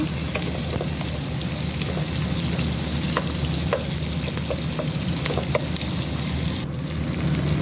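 Onions and other ingredients, with carrots to come, sizzle steadily in a hot frying pan while being stirred, a loud continuous fry with faint scraping clicks throughout.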